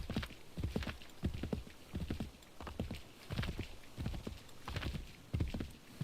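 A horse's hooves clip-clop at a steady walking rhythm in Assassin's Creed III, a repeated dull thudding of close footfalls with no voices over it.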